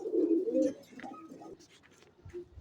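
Pigeons at a rooftop loft coo in low, throaty rolling calls, strongest at the start, then softer scattered coos and faint chirps close by, with no one speaking.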